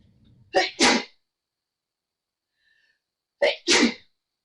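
Two sneezes ring out close and loud in an otherwise quiet room during a drawing session, each a quick double burst of an inhale catch and forceful release, separated by about three seconds of silence.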